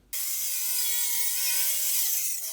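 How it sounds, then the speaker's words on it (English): A table saw with a crosscut sled trims the edge of a wooden board for a cutting board, giving a close, steady, whining cut that starts and stops abruptly over about two and a half seconds. "I'm going to establish that this edge is square using the crosscut sled"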